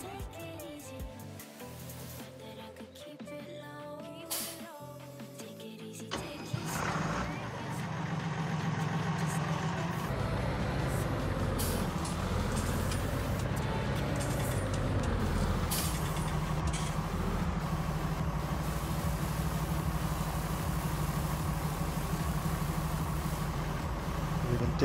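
Farm tractor engine running while a trailer is loaded, a steady droning rumble that starts about six seconds in and holds loud and even after a quieter, clanky opening.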